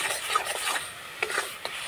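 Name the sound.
stirring and frying carrot paste in ghee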